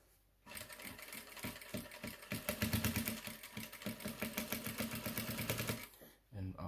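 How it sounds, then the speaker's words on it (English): A sewing machine stitches a patch pocket onto fabric 3 mm from the edge, its rapid, steady needle chatter running loud and close for several seconds before stopping near the end. "And we are sewing 3 millimeter from the edge of the fabric."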